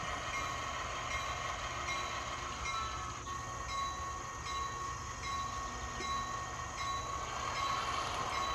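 A Chessie GP7 model train locomotive pulls out on a layout, giving a steady, continuous rumble with a faint whine that holds at an even level throughout, close by and alone.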